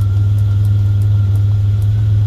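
A Buick Turbo Regal Grand National engine idles in open loop with its hood up, making a steady, close, low rumbling drone that holds even and unbroken throughout, with no voices.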